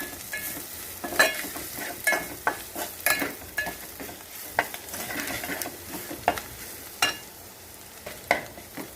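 Chili powder and turmeric mixture frying in a pan for banana flower curry, stirred with a spoon: repeated scraping clicks over a soft continuous sizzle, close up with no talk.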